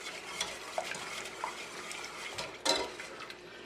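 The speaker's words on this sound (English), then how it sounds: "Just gonna give that a good stir." Rum and sugar glaze for a peach pineapple ham being stirred in a pot, soft irregular scraping and swishing with a light clink near the end, close and fairly quiet, with no talk over it.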